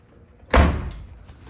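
The driver door of a 1966 Ford Thunderbird under repair shuts once with a single loud, solid slam and a short resonant tail, close up and with no talking.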